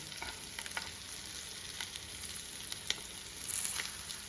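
Masala-coated eggs fry in oil in a pan in a Kerala kitchen, giving a steady close sizzle with scattered crackles and pops and a louder spatter near the end.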